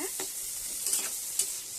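Ridge gourd and tomatoes frying in oil in a pan, with a steady close sizzle and a couple of stirring scrapes.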